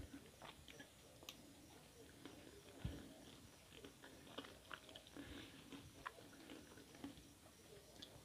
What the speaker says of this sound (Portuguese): Eu só mastigo do lado de cá.